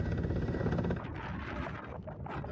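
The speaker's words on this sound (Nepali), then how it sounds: "Waiting for helicopter." A helicopter idles with a steady, loud rotor drone and engine roar over the Sahara desert, continuous throughout with some wind buffeting the microphone.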